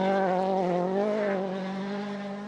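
Mats Osberg's WRC rally car on studded tyres at Rally Sweden howls loud and close with a steady, slightly wavering engine note that fades a little toward the end.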